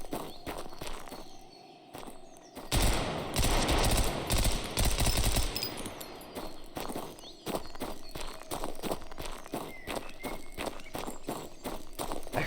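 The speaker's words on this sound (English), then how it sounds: "I heard that gunshot from behind" Gunfire from mixed-caliber weapons in the tactical shooter game Road to Vostok, with a dense loud burst of rapid shots followed by scattered cracks and footsteps, set against constant game ambience.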